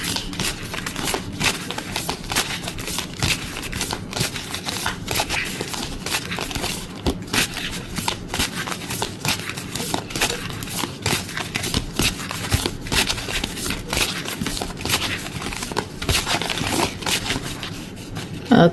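Tarot cards are shuffled in the hands in a continuous stream of quick, papery riffles and flicks, close and fairly steady throughout the long stretch, with no talking.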